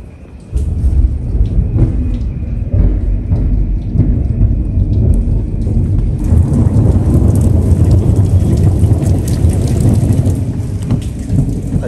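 Heavy rain pours steadily and loudly throughout, while low thunder rumbles beneath the downpour. No voices can be heard.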